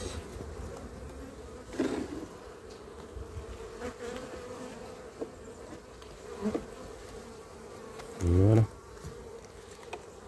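Honeybees hum softly and steadily from an open beehive during an inspection while wax bridges are scraped, with faint buzzing broken by a few handling knocks and one louder close bee buzz near the end; a person speaks a single word.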